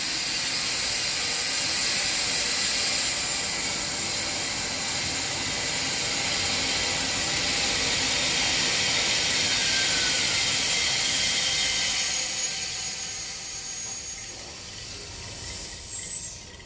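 Steam hisses through Leslie pressure valves on a high-to-medium-to-low pressure reducing line: a loud, continuous high hiss that holds steady and then drops off near the end.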